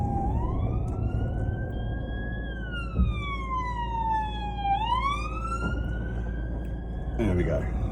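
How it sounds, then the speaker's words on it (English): A wailing police siren from a passing police car sweeps up and down in pitch as it passes nearby over steady traffic rumble. "I've got a police car coming along."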